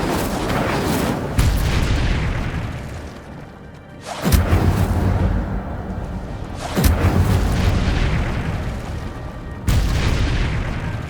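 In Hogwarts Legacy, Incendio fire spells go off as several booming blasts, each a loud, close burst followed by a roaring rumble that fades before the next one hits, with no talking.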